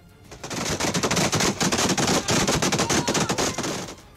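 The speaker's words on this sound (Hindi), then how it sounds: "एनआरएफ के लड़ाकों ने तालिबानी लड़ाकों पर ताबड़तोड़ फायरिंग कर दी" Rapid machine gun fire in a mountain firefight, loud sustained bursts of closely spaced shots rattling on for several seconds with no talking.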